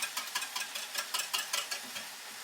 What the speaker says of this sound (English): I'll stir up my sauce here real quick.